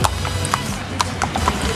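Horse hooves clip-clopping on a street in Baguio, a few sharp separated clops over steady outdoor background noise, fairly near and moderately loud.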